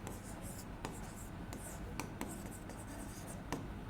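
Steady scratching of chalk or marker writing on a classroom board during a Hindi census lecture, continuous strokes with a few sharper taps, close and moderately loud, no talking over it.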